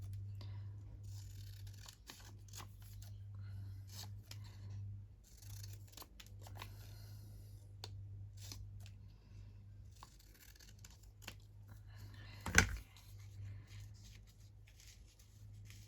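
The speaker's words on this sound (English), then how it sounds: "I'm just going to trim down these ones and see which one I like the best." Scissors trim paper for an envelope craft project, a soft run of close snips and paper rustles over a steady low hum, with one sharper snip near the end.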